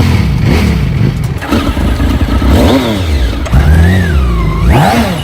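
Superbike engines, one of them a BMW, rev hard as three riders set off on a 24-hour challenge, with loud, close pitch sweeps rising and falling repeatedly and no talk over them.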